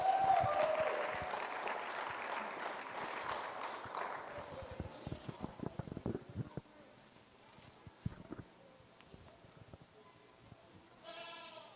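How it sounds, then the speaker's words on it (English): At a 4-H market goat show, an audience claps in sustained applause during the first few seconds that gradually thins into scattered claps. Goats bleat and hooves shuffle nearby, with a short bleat near the end. "Let's give them all another big round of applause."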